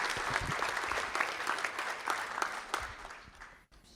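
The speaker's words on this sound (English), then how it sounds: "Let's give them a round of applause for this fantastic" An audience at a school district board of trustees meeting applauds, a close, sustained burst of clapping from many hands that tapers slightly toward the end.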